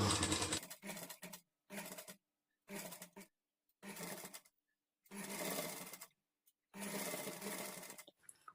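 A sewing machine stitching blouse cloth for a princess-cut blouse runs in short bursts of about a second each, separated by brief silences while the fabric is turned, close and steady.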